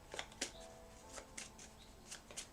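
Playing cards shuffled at random during a fortune-reading session, giving several quick riffling bursts with short gaps between, fairly close and moderately quiet over a low background hum.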